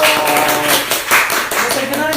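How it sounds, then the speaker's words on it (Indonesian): Audience greeting guests with a short burst of clapping that is loud and close, while people talk over it. "Wih, tepuk tangan dong."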